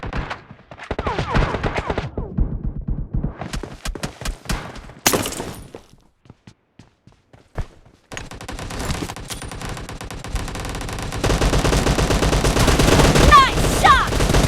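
Gunfire in a shooting video game: rapid bursts and single shots with breaking and shattering impacts, loud and close, broken by short quiet gaps, then a dense continuous stretch of battle noise with voices calling out.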